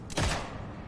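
A single revolver shot in slow motion in the video game Sniper Elite 5: a loud, drawn-out blast with a deep, stretched low boom that slowly decays into a lingering rumble.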